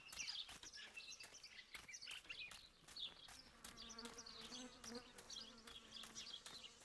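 Bees buzzing in a daytime forest in the horror video game Martha Is Dead, a faint wavering insect hum with bird chirps scattered over it and soft clicks throughout.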